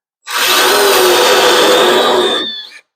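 A power drill bores out spot welds on a truck body, one continuous loud, steady whine with grinding bite lasting a couple of seconds, then stopping abruptly.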